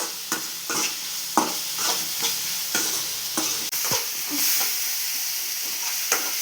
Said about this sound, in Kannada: ಈಗ ಟೊಮೊಟೊ ಹಾಕ್ತಿದ್ದಾಳೆ ಅಕ್ಕ.